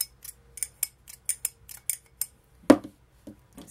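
Scissors snip repeatedly in quick, crisp strokes, close up, followed by one sharper, louder cut and a couple of softer snips.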